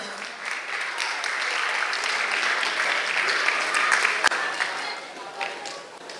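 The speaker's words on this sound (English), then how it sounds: "A round of applause for all the teams and participants" Sustained, dense applause from a large audience honouring the teams and participants at a national robotics competition, steady and full across the whole stretch with a single sharper clap standing out near the end.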